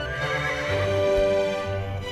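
A horse gives a loud, close whinny in a commercial, one rising and falling neigh lasting about two seconds with no talk over it.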